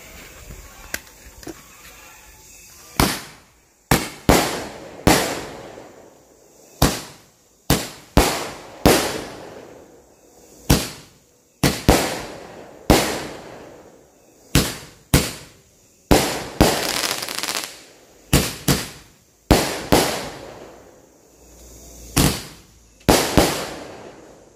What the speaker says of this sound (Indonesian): Setelah ini kita nyalain mercon Cobra guys.